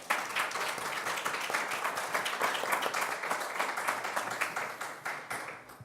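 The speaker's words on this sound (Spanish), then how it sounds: "Un aplauso, por favor." Audience at a communication-rights conference session in Spanish breaks into sustained, dense applause lasting several seconds, steady and fairly close, tapering off slightly at the end with no talk over it.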